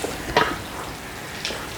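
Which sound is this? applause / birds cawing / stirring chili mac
stirring chili mac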